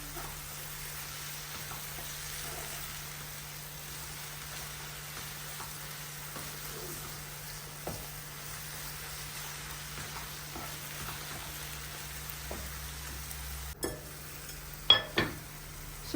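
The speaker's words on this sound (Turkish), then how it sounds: "önce salçamı şöyle güzelce bir kavurum" Soft, steady frying hiss of tomato paste in a pan, with a few scattered scrapes and clinks of a utensil stirring, louder knocks near the end.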